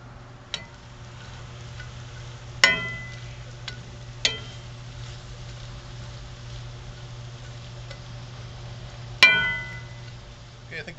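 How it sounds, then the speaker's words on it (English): Vegetables sauté on a grill with a quiet continuous sizzle, broken by a few sharp metallic clinks and scrapes of a utensil. "It's just regular sauteing some veggies."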